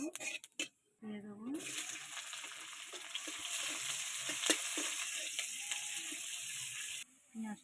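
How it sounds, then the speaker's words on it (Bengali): Panch phoron spices and onion sizzle and crackle in hot oil for a Bengali fish curry with winter vegetables, a steady loud frying hiss with stirring clatter, preceded by a brief voice. "দিয়ে দেবো পাঁচফোড়নটা সুন্দর সেন্ট বেরোলেই পেঁয়াজটা দিয়ে দেবো।"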